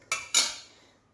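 A spoon clinks twice against a bowl while curd goes into pazhankanji, two bright metallic taps a quarter second apart, each ringing briefly and fading, close and alone.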